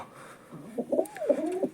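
Soft, throaty pigeon cooing, a few rolling coos in a short series, fairly close against a quiet background.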